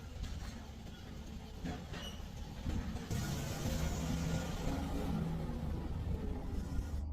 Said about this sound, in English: The vehicle continued forward.